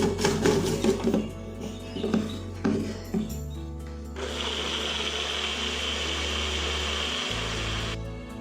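An electric blender whirring as it purées avocado with milk and honey, starting after some clattering, running as a steady loud motor drone, then shifting pitch before stopping.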